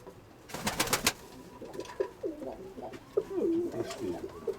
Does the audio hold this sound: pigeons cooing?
yes